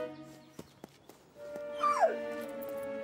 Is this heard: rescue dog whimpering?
yes